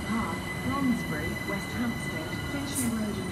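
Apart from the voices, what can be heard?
London Overground class 378 train arriving at Shepherd's Bush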